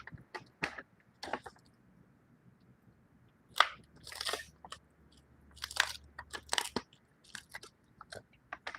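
A pet crunching a large hard treat up close: crisp, loud bites come in irregular bursts, separated by quiet pauses, with softer chewing between them.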